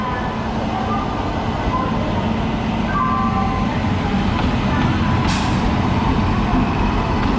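Sealdah Rajdhani Express train passing close by, a loud steady rumble and rattle of wheels and carriages filling the whole stretch, with a brief hiss near the end.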